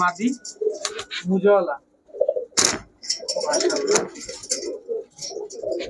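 Orange chila pigeons, high-flyer giribaz birds in a shop, coo softly in several short bursts, heard under and between a man's near, continuous talking.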